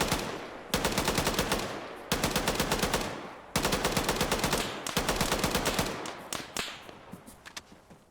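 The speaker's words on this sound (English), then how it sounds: "A little bit of machine gun fire going out." Loud bursts of machine gun fire in the Arma 3 video game, several long rapid strings broken by short pauses, then trailing off into scattered shots, with no talk over it.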